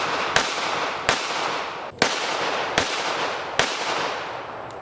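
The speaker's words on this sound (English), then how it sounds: "Shooting it one hand." A .22 Magnum pistol, either a Kel-Tec PMR-30 or an S&W M&P 22 Magnum, fired one-handed: five loud, sharp shots evenly spaced under a second apart, each with a short ringing tail.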